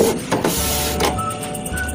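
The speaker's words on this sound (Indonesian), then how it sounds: "Lalu printer siap untuk mengeprint kembali" A Canon iP2770 inkjet printer runs its mechanism after an error 5100 repair, with a close, loud mechanical whir and grinding of moving parts sustained throughout.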